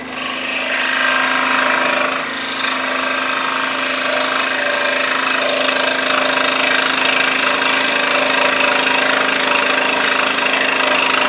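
A scroll saw cuts maple for intarsia with a loud, steady buzzing drone that holds for the whole stretch, shifting slightly in tone as the blade works through the wood.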